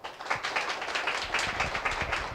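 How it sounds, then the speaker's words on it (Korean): A seminar audience applauds the panelists with a quick, fairly even run of claps from many hands, moderately loud and close, lasting a couple of seconds. "여러분 한번 큰 박수 한번 주시죠."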